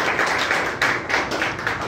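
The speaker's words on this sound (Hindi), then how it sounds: "एक बार पंकज के लिए एक बार जोरदार तालियां बजाएं।" A group of students applauding a classmate in a typing-test class, a short burst of brisk clapping at steady loudness with no talking.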